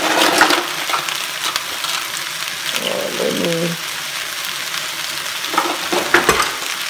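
Rice with chickpeas, turmeric and vegetable seasoning is stirred in a pan, a steady sizzle with scraping spoon strokes at the start and near the end, fairly close and with no talking.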